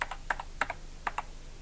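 Keys clack on a BBC Micro computer keyboard: a few quick, distinct keystrokes in small clusters, close and crisp against a quiet room.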